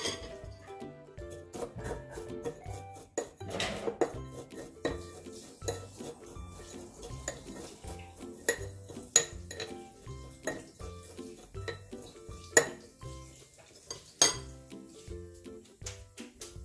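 Utensils clink and scrape against dishes and glass cups while honey-coated kunafa is flipped and layered, a close, irregular series of metallic taps and knocks with quiet gaps between.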